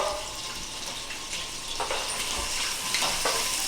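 Hot Italian sausage fries in a pan with a steady, close broadband sizzle, broken by a few louder crackles and stirring sounds near the end, with no voices.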